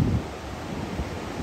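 Large, rough ocean surf after Hurricane Ian at Daytona Beach, a steady broadband roar of breaking waves mixed with wind buffeting the microphone, with no talking.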